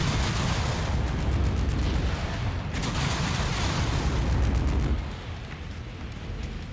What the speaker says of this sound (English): It seems like the missiles are hitting low, right?